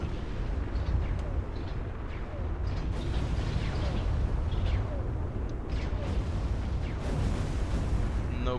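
Continuous rumbling explosions and mechanical clatter fill a dense Beyond All Reason strategy game soundscape, with scattered sharper bangs and crackles throughout.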